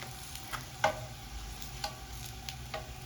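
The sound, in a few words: Syrian shawarma sizzling as it is flipped in the pan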